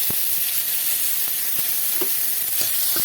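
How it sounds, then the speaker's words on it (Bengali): Steady loud sizzle of garlic frying in hot oil, with occasional stirring clinks and scrapes against the pan. "রসুনটা একটু ভাজা ভাজা করে নেব"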